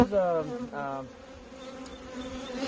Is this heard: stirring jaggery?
no